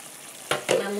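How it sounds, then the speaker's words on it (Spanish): Potatoes drop into a pot of Chilean carbonada stew with two quick thuds and splashes over a steady frying sizzle. "Ahora vamos a echar las papas."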